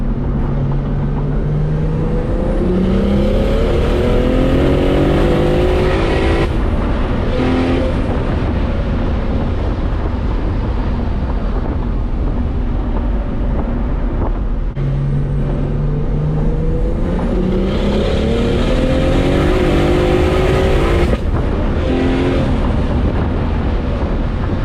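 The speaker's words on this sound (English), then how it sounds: "So that was about 30 psi, and the car pulled fine." A big single-turbo BMW 135i revving hard through rising gear pulls at about 30 psi boost, loud and close, with wind rush; two acceleration runs repeat with shifts between.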